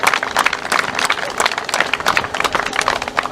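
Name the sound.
audience applause for the match officials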